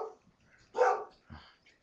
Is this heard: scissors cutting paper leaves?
no